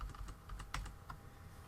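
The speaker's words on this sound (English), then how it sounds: "right here where it says text, is where you type in your name" Quiet, close typing on a computer keyboard, a quick irregular patter of soft key clicks with no voices.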